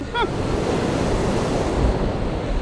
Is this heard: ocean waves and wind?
yes